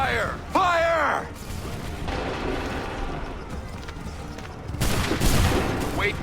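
A volley of muskets fired by a line of soldiers in Assassin's Creed III, a booming crackle that rolls out and fades, followed by a later burst, with shouted commands heard over the firing.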